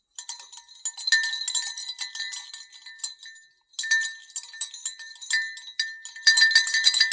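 A handmade textured clay bell with rusty old bells as its clapper jingles and clinks in bright, rattling bursts, with a brief pause before the shaking resumes. Close and fairly quiet, with no talking.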